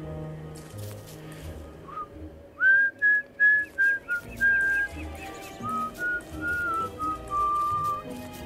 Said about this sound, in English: I have a habit of whistling every so often